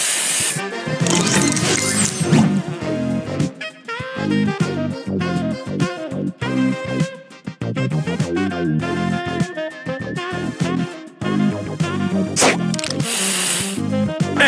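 Spray booster effect from the Match Masters mobile puzzle game, a loud hissing, sparkly burst over busy game music and chiming match sounds, running continuously through the stretch.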